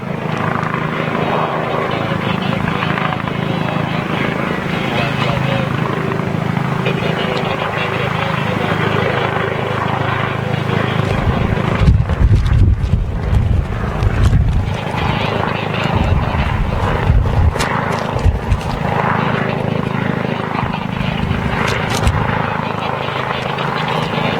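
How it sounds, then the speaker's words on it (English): A Boeing 717 jet airliner on a runway at New York's JFK airport gives a steady, loud engine roar that swells in the middle, with people talking over it throughout. "It looks like a little 717 maybe on 31 left to right."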